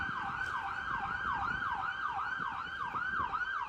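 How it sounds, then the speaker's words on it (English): An ambulance siren wails in a fast, repeating up-and-down sweep on Paul Street in Cork, Ireland, loud and continuous against low street and traffic rumble. "Ambulance."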